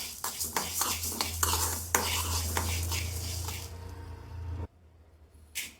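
Coriander seeds are dry-roasted in a pan for a Tamil paarai fish curry spice mix. A spoon stirs and scrapes them in quick scratchy strokes over a steady low hum, and the stirring stops near the end.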